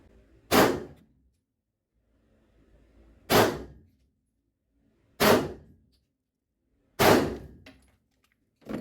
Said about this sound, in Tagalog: Ngayon, putukan natin 4 na bala.